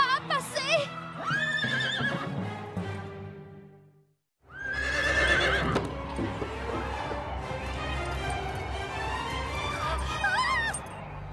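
Cartoon horse whinnies loudly with high, wavering calls, followed by hooves clip-clopping at a show-jumping course, all under an animated soundtrack and voices, with a brief silent gap in the middle.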